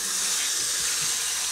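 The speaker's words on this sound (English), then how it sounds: "lukewarm water, works really good. And it just rinses right out." Lukewarm water runs from a sink tap to rinse out a paint mixing container, making a steady, close, hissing splash with no voices.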